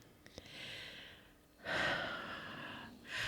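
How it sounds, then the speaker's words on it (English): A dog snores nearby in a quiet room, with two long, breathy, rasping inhales separated by a pause, plus a few faint clicks at the start. "Your dog is snoring."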